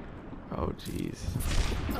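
Rapid gunfire from the Overwatch video game, specifically Widowmaker sniper-style shots, cracking in a quick series of bursts over a busy game mix while a player talks.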